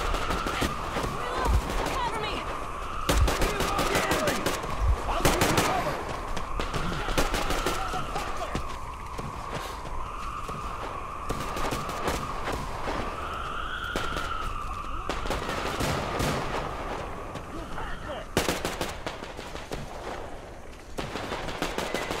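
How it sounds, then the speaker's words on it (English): Bursts of gunfire in the video game Metro Exodus, rapid shots and volleys scattered across a continuous droning, siren-like tone, loud and busy throughout. "Shots."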